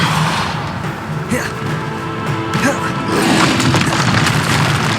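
Hogwarts Legacy gameplay: the Bombarda explosion spell bursts with loud, booming blasts amid a dense, continuous clamor of combat effects, with a voice calling out over the action.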